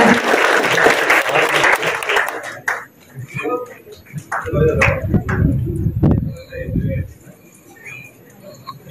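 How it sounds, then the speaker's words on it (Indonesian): Loud applause from an audience welcoming a speaker at a regional youth organization meeting in West Nusa Tenggara, dense clapping that fades out, followed by a voice talking over a microphone. "Berikan aplaus yang meriah."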